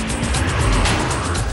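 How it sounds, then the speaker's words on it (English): A Tata Indica Vista D90 diesel car's engine revving high, heard as a steady, loud drone with road and tyre noise, continuous and without talk. "you can still hear the engine at work,"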